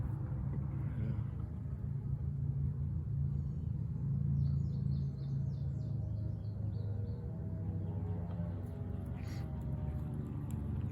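Road traffic passes nearby in a quiet rural valley as a low continuous rumble, swelling slightly, with faint birdsong above it and occasional soft voices.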